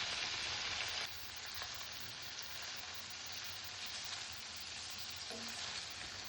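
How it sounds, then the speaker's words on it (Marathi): Paneer frying in hot oil in a pan, a dense steady sizzle that holds evenly throughout, loud and close, with a slight drop in intensity after the first second. "यामध्ये पनीर टाकायचं आहे आणि फ्राय करून घ्यायचं आहे."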